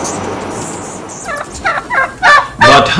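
Turkeys gobble in several quick, rattling bursts that grow louder and closer, rising out of a quiet outdoor background with a faint chirp early on.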